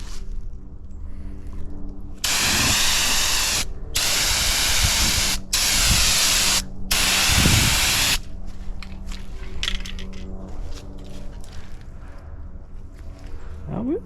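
A heated turbo spray paint can fires in three long, loud hissing bursts separated by brief pauses, followed by quieter handling noise.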